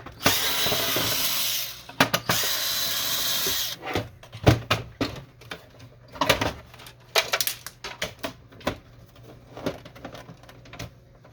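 Screws being removed from an HP Officejet Pro 6830 printer during disassembly: a sustained whir from a powered screwdriver for about two seconds, then a string of sharp clicks, taps and plastic knocks, close and unaccompanied by talk.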